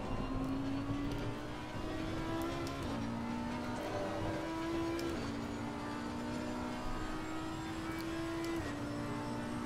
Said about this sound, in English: This R8 sounds good, actually.